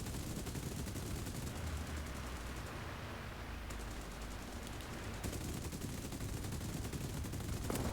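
Aircraft machine guns firing in a video game dogfight: a dense, loud, continuous rattling burst of gunfire filling the full eight seconds, with no voices over it.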